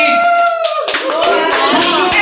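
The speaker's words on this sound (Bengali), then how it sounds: "জোরে হাততালি।" A crowd breaks into loud, dense applause at a prize-giving for competition participants, rising sharply after a brief moment of voices and carrying on close and steady to the end.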